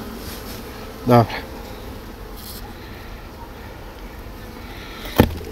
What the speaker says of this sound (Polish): Tu też są pszczoły.